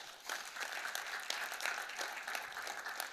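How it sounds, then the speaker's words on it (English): An audience at a New Haven Board of Alders meeting and State of the City address applauds, a fairly soft, even patter of many hands filling the room from a distance with no speech over it. "that deserves a round of applause"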